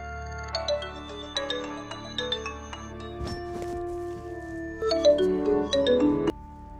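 A phone ringtone plays inside a football video game: a bright, melodic electronic chime that repeats in tonal phrases at steady loudness, with no voices over it.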